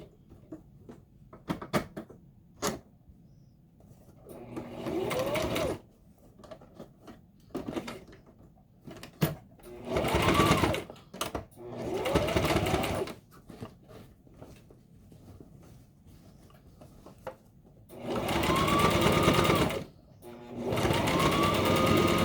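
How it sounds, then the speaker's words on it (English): Sewing machine stitching a tote bag in the round, running in several short bursts of a few seconds each, broken by pauses, quiet handling noises and soft clicks, with no talk over the stitching. "we're gonna sew a little bit at a time"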